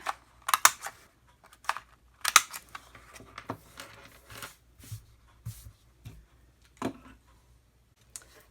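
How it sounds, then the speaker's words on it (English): A corner punch rounds the top edges of cardstock for a candy wrapper treat holder, giving a series of sharp, close paper-cutting clicks and snaps in short irregular bursts with quiet gaps between them. "And I'll go ahead and round the top edges on this paper, as well as on the paper I'm going to put on top of it."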